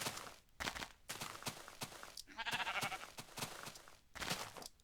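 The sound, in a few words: sheep bleating in Minecraft video game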